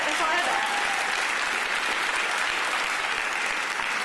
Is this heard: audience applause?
yes